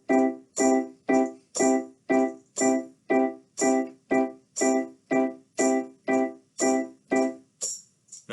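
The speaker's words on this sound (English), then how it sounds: "So if I were to play it on the piano, it would sound like this." Piano playing a steady run of evenly spaced repeated notes, about two per second, loud and close and alone, each note decaying before the next, sounding as eighth notes in a simple rhythm exercise.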